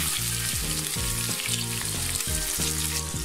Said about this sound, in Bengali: ওই তেলের মধ্যে আমি পেঁয়াজ কুচি দিয়ে দিলাম